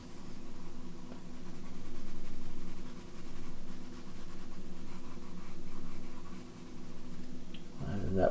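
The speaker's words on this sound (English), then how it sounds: "get my dark pencil here, and I'm gonna make my darker areas even darker now" Dark pencil shading on paper for a still life drawing: soft, rhythmic scratching strokes that swell and fade in a steady back-and-forth pattern at close range, with a brief louder rustle at the end.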